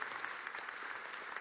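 Audience applause fills a speech event on the Bolivarian economic agenda, a dense steady clapping of many hands, loud and continuous throughout with no voices over it.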